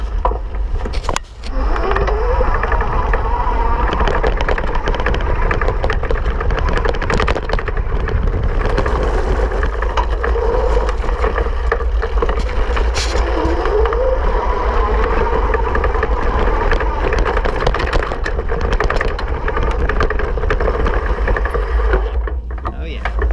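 E-Lux Sierra electric bike ridden off-road at full power in level 5 sport mode gives a loud, continuous roar of wind and tire rumble with a rising motor whine throughout, and a rider talking under it.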